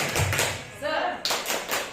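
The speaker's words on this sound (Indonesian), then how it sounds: "Tepuk semangat." Elementary school children doing a spirit-clap cheer: quick rhythmic taps and claps mixed with chanting voices, close and lively, in short bursts.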